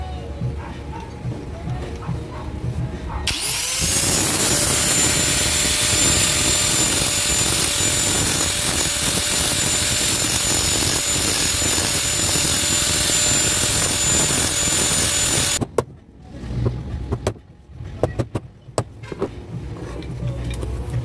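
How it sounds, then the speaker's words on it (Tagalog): An angle grinder cuts through the riveted bushing housing of an exhaust fan, a loud, steady high-pitched whine that starts abruptly and holds for about twelve seconds before stopping, followed by clattering handling noises. "Kaya ang gagamitan natin ng grinder para matanggal itong tatlong to."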